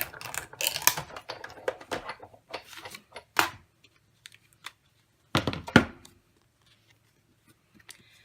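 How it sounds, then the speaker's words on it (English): An electronic cutting machine cuts photo strips on a cutting mat with bursts of clattering, whirring mechanical motion, loudest early and again midway, separated by near-silent pauses. "place it on our cutting mat so that we can run it through our machine. I'm going to cut it out."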